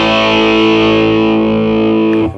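Electric guitar through a Menatone Fish Factory dual drive pedal with the top end boosted gives a loud, sustained lo-fi distorted chord that rings steadily, then cuts off at the end.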